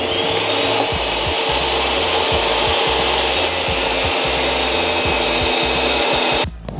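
A power tool grinds and saws off excess material from a knife blank in a workshop, a loud continuous abrasive rasp with a pulsing rhythmic beat underneath that cuts out abruptly near the end.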